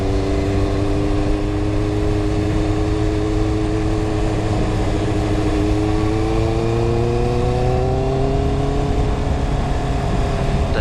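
A 2021 Honda CBR650R motorcycle ridden in third gear on a cold road, its engine holding a loud, steady hum that climbs gradually in pitch as it pulls through the gear, with constant wind and road noise and no talking.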